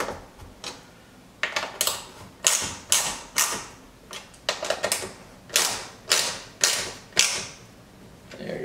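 Bolts are ratcheted down on a carbon fiber front splitter, a series of sharp mechanical clicks and short ratcheting bursts in an uneven rhythm, close up and alone with no speech.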